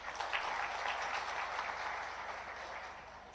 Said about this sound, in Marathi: त्यांच्यासाठी एकदा टाळ्या वाजव।